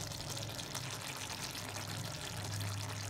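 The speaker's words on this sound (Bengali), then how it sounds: "সর্ষের তেল ছড়িয়ে নামিয়ে নেব।" Raw mustard oil drizzled over a cooked pot of vegetable stems and potatoes in poppy-seed paste, a soft steady pouring and trickling hiss lasting throughout, close and fairly quiet, with a low hum underneath.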